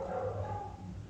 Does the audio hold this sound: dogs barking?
yes